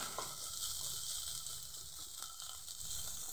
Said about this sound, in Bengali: এবার এটাকে ভালো করে আমি নেড়ে চিকেনের সঙ্গে